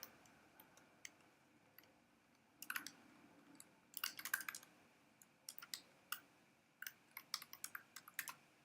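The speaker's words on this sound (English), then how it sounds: "You're typing." Someone types on a computer keyboard with faint, irregular clicks that come in scattered bursts against a quiet room background.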